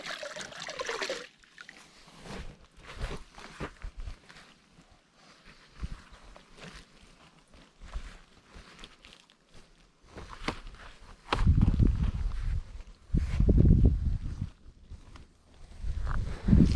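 Foamed-up car being hand-washed with a wash mitt, soft wet rubbing and splashing sounds coming and going, with louder sloshing bursts later as water runs and drips.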